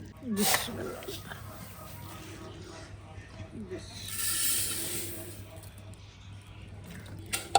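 Flax seeds roast in a wok with a steady soft hiss and faint crackle, while someone talks over it and the hiss briefly swells.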